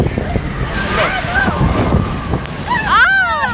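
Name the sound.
splashing water on a park ride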